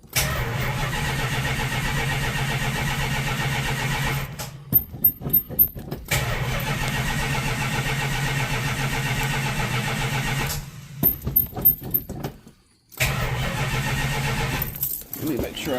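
A car engine with a Dakota Digital dash cranks and fires up twice, running loud and steady between short bursts of starter cranking and a brief silence, with keys jangling at times.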